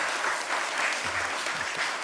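A church congregation claps during a Sunday morning service, a dense, even wash of applause that carries on steadily for a couple of seconds.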